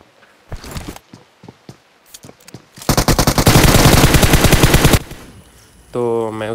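Rapid SLR rifle gunfire in PUBG Mobile, a loud sustained burst of closely spaced shots after a few scattered earlier shots, followed by a short pause and a rising electronic tone.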